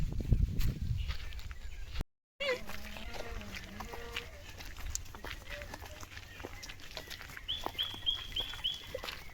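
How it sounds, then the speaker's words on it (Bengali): Birds call faintly across a quiet outdoor spot that resembles a gorge in Malda. Short, high chirps repeat near the end over a soft background of ambient noise and scattered distant sounds. "ওহো চারিদিকে শুধু পাখির আওয়াজ"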